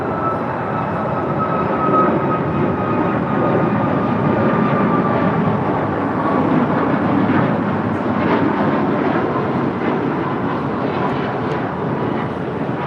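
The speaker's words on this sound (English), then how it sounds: "This is United Airlines 1193 departing to Phoenix, Arizona on a MAX 9" A United Airlines Boeing 737 MAX 9 jet departs for Phoenix, its engines producing a loud, sustained broadband roar that stays steady and close throughout.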